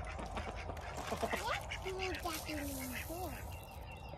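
Ducks being fed on the ground on a farm with chickens nearby give short quacks and calls, fairly close, amid background noise and people talking.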